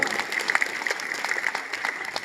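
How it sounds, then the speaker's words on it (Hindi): Applause from an audience at a village gathering on national unity and anti-addiction, a steady patter of claps with sharper bursts, fairly close and alone without speech. "जोरदार तालियां बजाओ"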